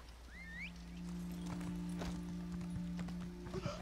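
Hooves of a horse in a video game clip-clop in a quick, steady rhythm over a constant low hum, with a faint whinny near the start.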